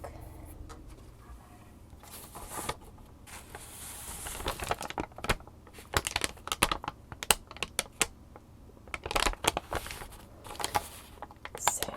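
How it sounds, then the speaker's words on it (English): Light, thin paper with fine fibers crinkled and crumpled close up, a busy stream of crisp rustles and sharp crackling bursts in irregular clusters, loud and near, with no voice over it. "This is a much lighter crinkling sound. It's a lighter paper."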